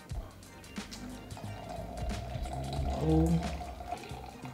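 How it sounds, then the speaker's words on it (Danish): Hot water pours onto coffee grounds in a French press, a soft continuous trickle and splash close by that swells toward the end, with a brief spoken word at the start. "Og så skal du bruge dit varme vand."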